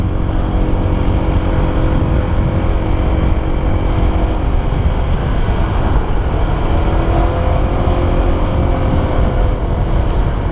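A Honda PCX 160 scooter engine pulls steadily while climbing a hill, a continuous close drone with wind noise and no pauses throughout.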